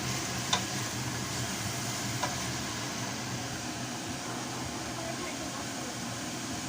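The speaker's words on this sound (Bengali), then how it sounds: "মশলাটাকে কষাতে হবে। দেখি বাবা, এই সাইড দিয়ে নিতে হবে।" Spice masala sizzling and frying in a pan while being stirred, a steady close hiss with a couple of soft scraping clicks from the spatula, no talking.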